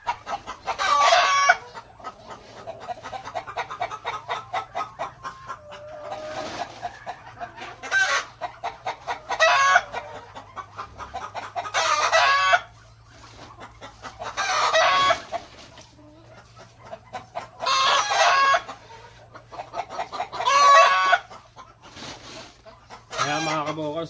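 Layer hens in a layer house give repeated loud bursts of clucking and squawking that rise and fall in waves over a low steady hum of fans or machinery, fairly close.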